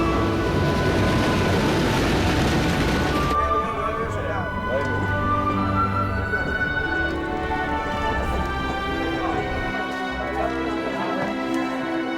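A steam-era passenger train pulls into a station in a period drama setting: steady rumbling of wheels and carriages, loud and continuous throughout, with a hiss burst early on, mixed with crowd noise and voices.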